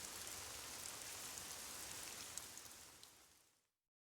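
Steady rain falls in the video game Detroit, a dense, even hiss that fills the clip alone with no talk, then cuts off abruptly near the end.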